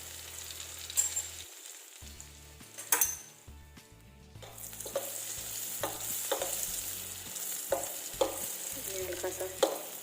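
Red chillies sizzle in hot oil for a tadka for Punjabi masala Maggi, a steady crackle close by with repeated clinks of a spoon stirring against the pan.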